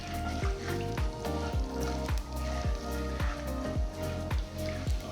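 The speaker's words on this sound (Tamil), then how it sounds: "ஒரு டீஸ்பூன் உளுத்தம்பருப்பு ஒரு டீஸ்பூன் கடுகு ஒரு டீஸ்பூன் சீரகம் சேர்த்து வறுத்துக்கலாம்" Urad dal, mustard seeds and cumin sizzle and crackle in hot oil in a pan, a steady frying hiss with small pops under light background music.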